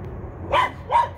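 Dogs bark at a possum: two sharp, close barks in quick succession over a low background hum, with no voices.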